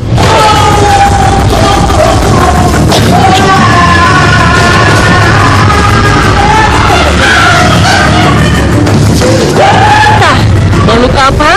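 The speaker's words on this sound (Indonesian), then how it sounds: "tiba-tiba terdengar teriakan seorang meminta tolong." A person yells and screams for help inside a former tea factory at Cidatar during a paranormal session. Loud, strained cries rise and fall over about eleven seconds against dense, noisy background sound.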